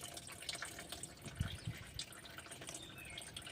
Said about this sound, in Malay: Boleh nampak air keluar.